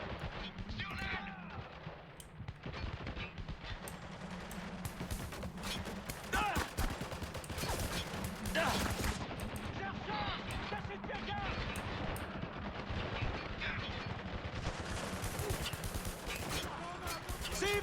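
Dense bursts of rifle fire from an enemy gunman in the video game Spec Ops: The Line crack and boom repeatedly at close range, mixed with heavy impacts and shouted voices over a rumbling battle backdrop.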